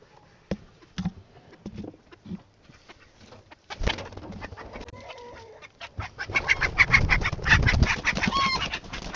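A backyard chicken clucks in short, scattered bursts that start sparse and grow denser and louder, with other farm fowl calling close by in a snowy yard.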